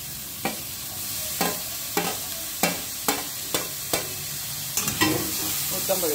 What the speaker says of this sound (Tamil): இஞ்சி பூண்டு பேஸ்ட்டு வதங்கட்டும்